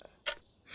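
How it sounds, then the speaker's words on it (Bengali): Crickets chirp outside at night, a faint high-pitched trill with a brief louder burst, heard alone in quiet surroundings. "কেবল বাইরে ঝিঝি ডাকছে।"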